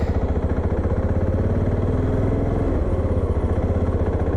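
A Voge 650 DSX motorcycle rides through town at night, its engine a steady, close, throbbing drone with a slight pitch dip partway through, loud and continuous with no voices.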